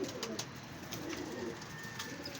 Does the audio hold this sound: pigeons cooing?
yes